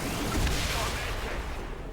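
Gunfire in the turn-based strategy game XCOM 2: a short burst of shots with a booming, rumbling tail, loud and close, with a voice faintly under it.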